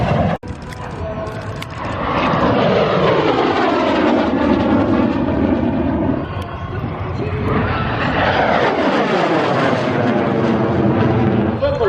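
A MiG-17 jet at Oshkosh EAA AirVenture roars past, its engine whine rising and then sweeping down loudly as it flies by overhead, with excited voices shouting over it.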